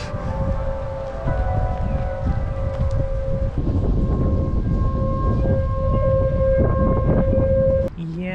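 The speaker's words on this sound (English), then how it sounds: "Today is siren testing day." A long wailing civil defense siren test tone holds steady at a distance, with gusty wind noise rumbling across the microphone throughout.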